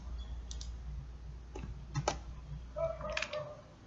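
Faint, sparse computer mouse clicks and a few keyboard taps come in isolated bursts over a low steady hum, as text is copied and pasted into an online quiz form.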